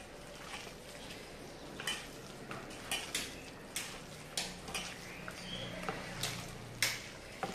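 Raw tamarind stew being mixed by hand with green chillies, coriander and brinjal, giving soft wet squelches and light clinks against a vessel in an irregular rhythm, close and fairly quiet, with no talk.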